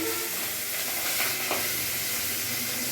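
Pabda fish fries in hot oil with a steady loud sizzle, dense crackling and spattering pops throughout, close and continuous with no voices.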